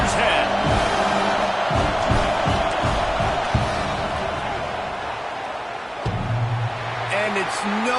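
Stadium crowd roaring at a college football game between Auburn and Ohio State during a field goal attempt, a dense, steady wall of loud crowd noise with shouts and cheers, and a commentator talking over it.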